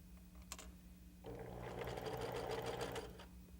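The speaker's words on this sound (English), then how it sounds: "I'm going to sew up to the dot and backstitch and then take it off the machine" A sewing machine runs close by, stitching fabric for lap quilting in a steady, rapid whir of about two seconds that follows a few quiet handling clicks.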